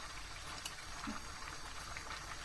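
A pot at a steady rolling boil, with continuous bubbling and hissing that holds even throughout.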